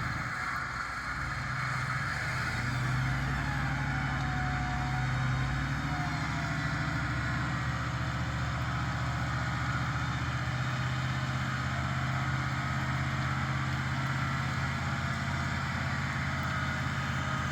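Vehicle engine droning steadily as its tyres spin and slip on a slippery bush track in the Victorian High Country, a continuous loud rumble with no voices.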